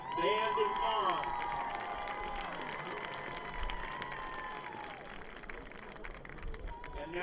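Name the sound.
crowd applause for seniors at a high school football game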